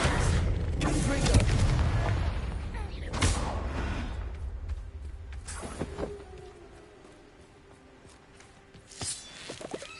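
Spell blasts erupt in Hogwarts Legacy on PS5, loud booming bursts and crackling impacts in a busy first few seconds, then scattered sharper hits and a late thump over quieter game ambience, with a voice casting between them.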